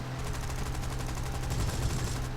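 Hispano 404 aircraft cannon in War Thunder firing a rapid, continuous burst of evenly spaced heavy shots over steady engine drone, loud and close, with no talking.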